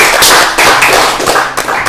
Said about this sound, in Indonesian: Tepuk tangan dulu dong Bapak.